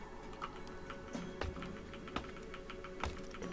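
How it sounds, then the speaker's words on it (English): Computer keyboard keys clicking during Minecraft Story Mode play, a run of light, irregular taps with a few sharper clacks, close and clear over a steady low background hum. "You can probably hear my keyboard clicking."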